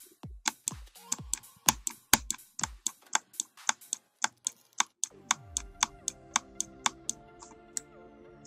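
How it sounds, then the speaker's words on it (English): Right button of an Hcman X90 gaming mouse clicked over and over, about twenty sharp, close, isolated clicks in a steady rhythm, each with a brief snappy return. "I will listen to the right click again."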